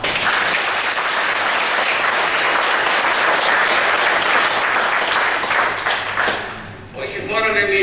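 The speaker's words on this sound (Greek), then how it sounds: "ένα θερμό χειροκρότημα" Warm, sustained applause from the audience at a general assembly, a loud, thick crowd of clapping hands lasting several seconds before tapering off as a speaker's voice returns.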